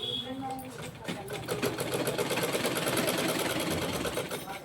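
Sewing machine stitching a blouse sleeve, a fast, steady rapid clatter of the needle building up near and fairly loud, with someone talking over it.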